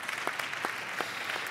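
Audience applause at a conference, a moderate steady patter of clapping from a seated crowd with a few sharper individual claps standing out.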